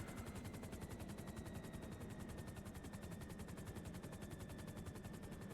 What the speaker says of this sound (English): Can you guys still hear me over the helicopter engine